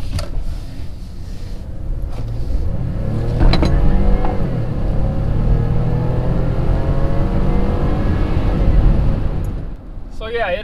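A Ford F150 pickup with the 2.7 EcoBoost engine accelerating hard, its engine note building in a long sustained roar that climbs through rising tones with wind and road noise, with speech over the top.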